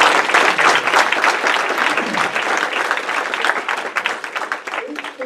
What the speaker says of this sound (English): So let's give a applause to her.